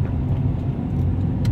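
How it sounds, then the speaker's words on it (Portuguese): Cars circulate slowly around a roundabout, heard from inside a vehicle in second gear as a steady low engine and road rumble without a break. "Olha lá os carros, ó."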